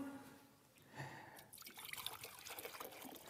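Liquid is poured during a science experiment, starting with a faint trickle and then turning into a louder, close splashing pour that fills the second half.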